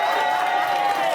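An event crowd applauds and cheers for Jumaane at a Caribbean Heritage Month celebration, a brief dense wash of clapping and shouting with a voice mixed in.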